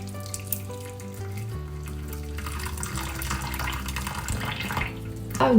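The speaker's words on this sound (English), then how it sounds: "And just put hot water." Hot water pours from a kettle onto miso in a bowl for a Japanese diet soup, a steady close liquid rush whose pitch rises as the vessel fills, ending with a brief louder splash.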